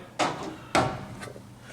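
A long drawer on a big filing cabinet slides open or shut, giving two distinct sharp knocks about half a second apart, close by, with a fainter rattle trailing after.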